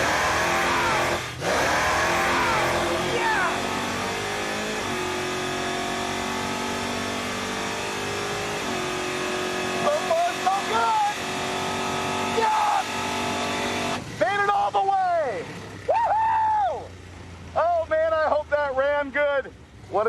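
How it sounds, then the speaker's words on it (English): A loud, sustained engine roar from an Impala drag car fills the first fourteen seconds of its violent launch down the strip, then fades out as people talk and shout excitedly. "Now, this thing does a pretty violent launch."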